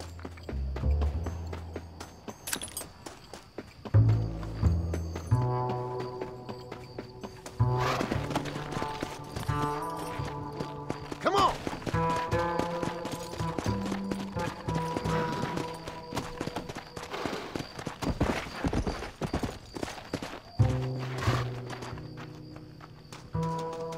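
Horses in the Red Dead Redemption video game clip-clop along in a steady rhythm with occasional neighs and whinnies, layered over the game's music and ambient sound.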